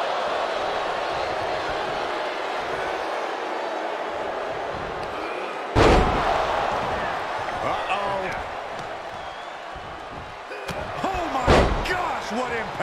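Wrestling slam impacts in the WWE 2K23 video game land as two heavy thuds several seconds apart over constant arena crowd noise, with a commentator talking between them.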